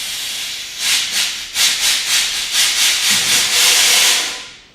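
A homemade line evacuator blows air through a rusty fuel sending unit on a barn-find Cougar, giving a loud, close rushing hiss in a series of pulsing bursts that end in one long blast before fading.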